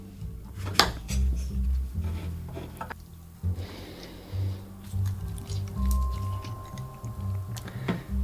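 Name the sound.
squeezing fresh lemons for juice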